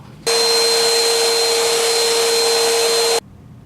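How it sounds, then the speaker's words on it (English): A vacuum cleaner clears out ceiling air return vents in a home with central air conditioning, starting abruptly and roaring loud and steady with a high whine for about three seconds before cutting off. "now I'm going to move on to the two air returns up in the ceiling and vacuum those out real well"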